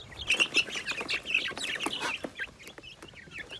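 Chickens cluck and chirp in a busy, overlapping cluster inside a brooder while being moved to a coop, with soft rustling and a few wing flaps close by.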